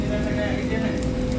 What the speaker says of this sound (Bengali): বাটারটা হালকা গরম হয়ে আসলে আমি টিক্কিগুলো এক এক করে ঢেলে নিচ্ছি।